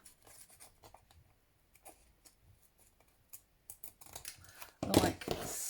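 Scissors trim paper for a junk journal puzzle book, making a series of small, crisp snips that grow busier and louder toward the end and finish in a short burst of rustling.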